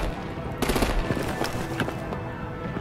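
Bursts of gunfire in the game Batman: The Enemy Within crackle over a busy background of action sounds, loud and fairly close.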